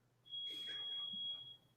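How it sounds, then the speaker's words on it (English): A high, steady electronic alarm tone sounds in a distillery, holding for about a second and a half, with faint indistinct voices murmuring underneath. "My alarm's going off in the distillery."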